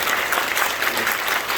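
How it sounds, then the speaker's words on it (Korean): Congregation applause in a church during an ordination service marking a 45th anniversary, a brief, dense and steady burst of many hands clapping at close range. "큰 박수로 축복해"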